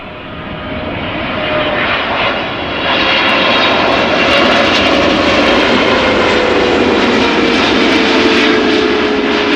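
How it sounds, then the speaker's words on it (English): Boeing 777-300ER airliner arriving at Amsterdam Schiphol Airport, its engines a loud, sustained roar and whine that swells and holds as the jet passes close by, with no voices. "The 300s and the freighters make the best engine noise, in my book at least."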